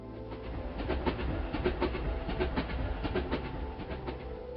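Train rolling along rails on the Galaxy Railroad, a steady rumble with rhythmic clickety-clack beats repeating throughout, moderately loud and without voices.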